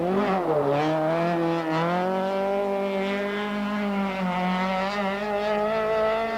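An Opel Manta rally car slides tail-out at the 1992 Donegal International Rally, its engine holding a sustained, revving tone that climbs and wavers, heard continuously at moderate distance.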